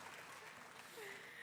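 An audience applauding at an award ceremony honoring women, a faint, even patter of clapping heard from a distance for a brief moment.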